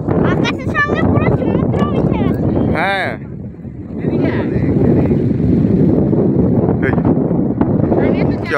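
Strong wind gusts across a hilltop viewpoint above the sea at Kailash Giri, Visakhapatnam, a steady broadband roar buffeting the microphone, with people talking over it throughout.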